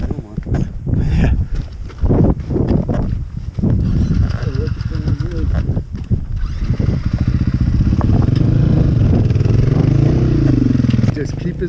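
Motorcycle engine running along a backpacking trail, a steady engine drone with clattering over rough ground, a rising revving tone toward the end, while people talk throughout.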